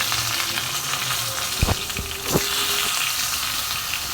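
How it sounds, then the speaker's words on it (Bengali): Fish heads deep-fry in hot oil with a loud, dense, continuous sizzle, broken by a few metallic utensil clinks midway. "মাথাটা ভালো মতো লাল করে ভেজে নিচ্ছি।"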